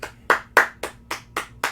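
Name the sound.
person clapping loudly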